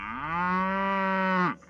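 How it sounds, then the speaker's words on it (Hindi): A single long, steady cow moo, loud and close, lasting over a second before cutting off, heard alone outside a village hut. "गैया इस बार बूढ़े शंकर के मड़ई के बाहर आकर रंभाने लगती है।"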